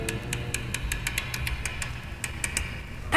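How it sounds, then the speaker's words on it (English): Amplified clicking of lock tumblers as a 1970s radio drama effect, a series of sharp, uneven ticks over a low humming background, no talk. "the clicking noises you hear are the tumblers of a lock magnified many times by intricate amplification equipment"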